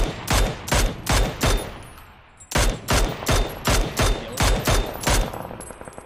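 Video game gunfire crackles in rapid bursts, about a dozen sharp volleys in steady rhythm with a short pause partway through, loud and close.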